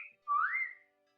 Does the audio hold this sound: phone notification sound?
yes